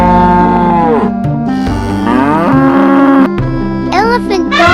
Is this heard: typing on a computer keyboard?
no